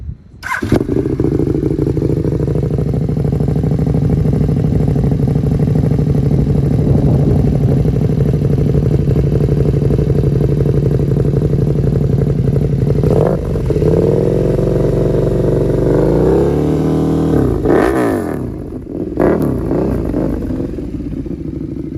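A KTM Super Duke R motorcycle with an Austin Racing exhaust idles loudly and steadily up close with a deep exhaust rumble, then blips the throttle a few times near the end.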